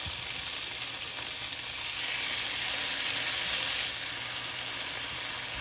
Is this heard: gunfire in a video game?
no